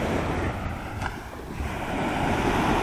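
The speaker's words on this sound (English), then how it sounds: "fucking ocean, man." Ocean waves rolling onto a white-sand Gulf beach at Pensacola, Florida, a continuous surf wash with gusty wind buffeting the microphone, swelling slightly toward the end.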